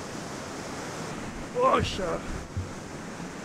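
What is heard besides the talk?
loud ocean water, waves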